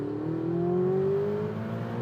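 Ferrari 488 Spider engine accelerating hard in third gear, a rising, loud, steady roar that climbs in pitch across two seconds with no talk over it.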